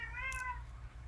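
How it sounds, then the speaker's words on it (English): A house cat gives one short, soft meow indoors, quiet and fairly close over a low background hum. "Hey kitty cat, thanks for meowing."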